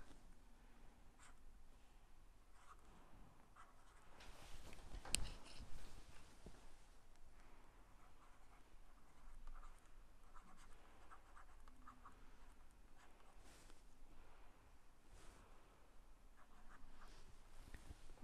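Course prerequisites are written out by hand during a quantum field theory lecture, faint continuous scratchy pen strokes with a brief louder knock partway through.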